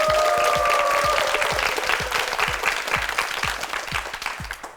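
Studio audience on a Korean quiz show applauds a contestant with loud, steady clapping, individual claps audible up close within the crowd, tapering off toward the end.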